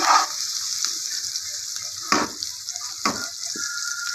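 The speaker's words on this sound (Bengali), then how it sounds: "পেঁয়াজের কুচিগুলো তখন দিয়ে নিই নাড়াচাড়া করে নিয়েছি এবার এটাকে একটু ভাজা ভাজা করবো" Chopped onions fry in a hot pan for a ridge gourd paste dish, giving a steady close sizzle with a few soft stirring scrapes and no voices.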